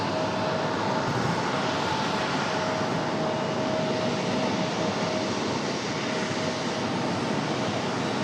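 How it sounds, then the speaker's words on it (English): A Delta Connection CRJ jet arriving at Raleigh-Durham airport produces a steady, broad engine roar that holds evenly throughout, with no voices over it. "At the arrival of the Delta Connection CRJ."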